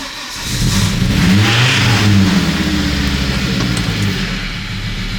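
A Volvo 850 engine with a running fault, stumbling as the throttle is blipped, rises into a loud close rev and then sags back toward an uneven idle, heard alone.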